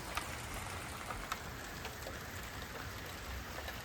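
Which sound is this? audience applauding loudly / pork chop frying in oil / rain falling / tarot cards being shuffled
rain falling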